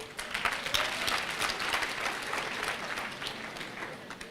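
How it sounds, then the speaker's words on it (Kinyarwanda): An audience applauds the Amavubi national football team at a comedy show in Rwanda, with steady, dense clapping that holds at an even level throughout the clip. "muyikomera amashyi menshi pe"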